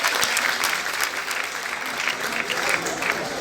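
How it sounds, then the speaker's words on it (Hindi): Steady applause from an audience at an Arts Council of Pakistan Urdu conference ceremony, many hands clapping densely and evenly throughout with no voices on top. "बहुत सारी तालियां"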